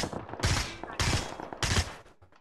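Gunfire in the PUBG video game comes as three loud, close bursts of rapid shots, each about half a second long, separated by brief gaps.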